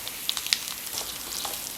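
Boiled potato going into a hot pan with curry leaves and green chilli paste for a South Indian potato fry, giving a soft, even sizzle with a few faint clicks and no voices.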